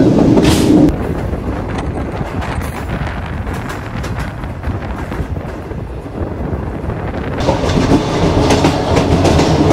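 A train rolls along the rails in Pakistan between Islamabad and Karachi with a steady rumble and rhythmic clacking, loud and close, with gusts of wind buffeting the microphone.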